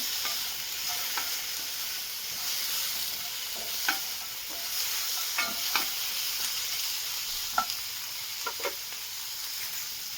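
Chopped tomato and spices fry and soften in a pan, giving a steady close sizzle with light scraping stirs and occasional small pops throughout, no voices.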